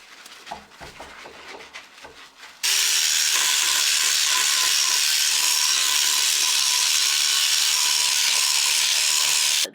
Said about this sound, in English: This is the bathroom sonic scrubber